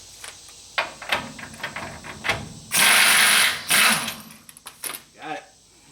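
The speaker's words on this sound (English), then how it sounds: "I'm putting a pipe wrench on it actually." Pipe wrench ratcheting and clanking on a bolt of a 1967 Ford F100, a series of sharp metallic clicks with a loud grinding burst midway, close up with some talk around it.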